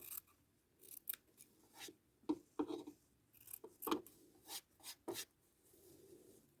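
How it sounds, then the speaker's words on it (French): Scissors snip bias binding strips at close range, a series of sharp, quiet cuts and rustling fabric sounds in an irregular rhythm with no talking. "Maintenant, je peux découper ces bouts de biais."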